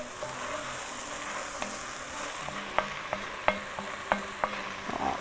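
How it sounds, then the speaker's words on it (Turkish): Onions sweating and frying in a pot for imam bayıldı, a steady soft sizzle with scattered small pops and crackles, close and fairly quiet, with no talking. "Soğanıma bakıyorum. Gayet güzel terliyor."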